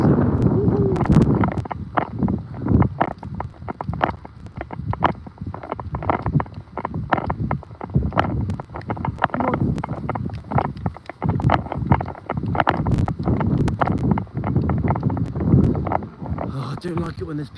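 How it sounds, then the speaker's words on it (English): Heavy wind buffets the microphone in low, gusty rumbles, with a person talking intermittently through the blustery noise. "Right, it's windy, guys. Windy."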